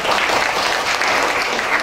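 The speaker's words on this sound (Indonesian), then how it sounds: "Tepuk tangan untuk semuanya dulu" Dense, steady audience applause fills a hall at a motivational talk for local community-service students, many hands clapping continuously at close range with no gaps.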